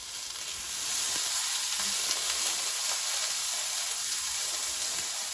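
Pork medallions from a meal kit fry in a pan with a constant close sizzle and crackle, a steady hiss lasting throughout with faint stirring or utensil sounds and no voices.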